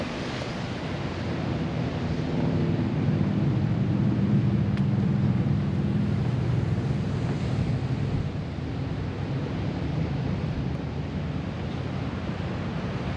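Steady surf washes onto a beach on an overcast day, with continuous wind rumbling across the microphone and no voices.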